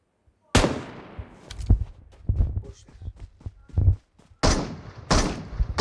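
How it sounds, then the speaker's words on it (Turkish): PUBG battle gunfire: a burst of sharp shots at the start, then a rapid stuttering string of loud cracks, a brief silence, and two more loud blasts near the end. "Kim buradan vuruyor bana?"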